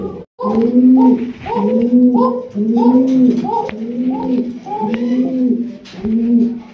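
A pigeon coos in a steady repeating rhythm, about eight throaty, rolling coos close to the microphone.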